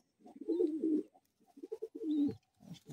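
A male pigeon coos up close in a loft in Bagnan, giving several throaty, rolling coo phrases separated by short pauses.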